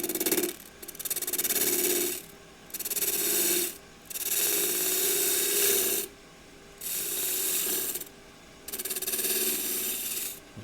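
A wood lathe turns an MDF picture frame while a tool scrapes it in five or six loud rasping bursts, each one or two seconds long, separated by short quiet gaps.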